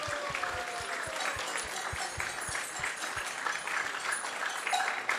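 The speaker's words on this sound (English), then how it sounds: "let's give him a big round of applause and thank him" Audience applause for a guest presenter at an ISKCON temple gathering, a dense wash of many hands clapping steadily and fairly near for about five seconds without any talk.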